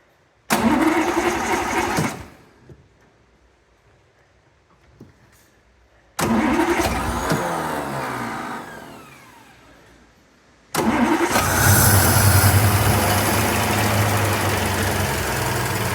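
A 1960 Humber Super Snipe engine cranks and catches, runs briefly, cuts out, then restarts twice, the last time settling into a loud, steady idle.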